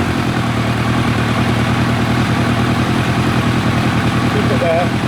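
A 1990 Kawasaki ZZR1100 motorcycle engine idling roughly, a loud steady close-up rumble with an uneven pulsing beat running the whole time, with people talking over it.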